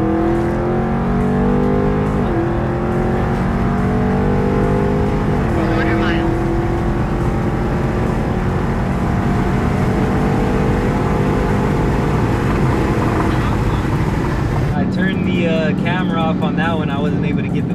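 A Dodge Charger 392 Scat Pack Widebody in track mode roars hard down a quarter-mile run, its loud engine note climbing through the gears with distinct shift breaks before easing off near the end.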